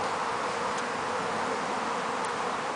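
Honeybees fanning at a hive entrance during a hive inspection, a steady close buzzing drone that holds evenly throughout with no pauses.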